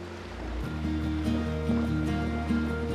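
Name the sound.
ocean waves around Tenerife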